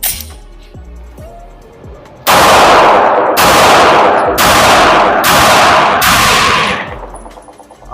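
A Glock 48 MOS pistol fitted with a Holosun 507k sight and Streamlight TLR7 Sub light, loaded with a Shield Arms S15 magazine, follows quiet handling with five loud, sharp shots spaced about a second apart, each with a brief ringing tail.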